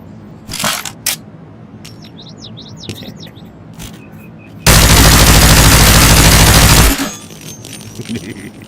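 Automatic gunfire in a video game, one loud sustained burst of rapid shots emptying a magazine, set between lighter clicks and small background sounds.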